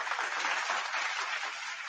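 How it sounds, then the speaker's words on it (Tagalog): A burst of applause sounds, thick and uniform clapping at a fairly loud level that sustains without pause. "Dapat may palakpak yung nakaisip niyan."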